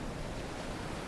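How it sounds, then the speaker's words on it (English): Brief stretch of ocean waves breaking on a shore, a dense unbroken wash of surf at even loudness with no voices. "sit and enjoy the waves"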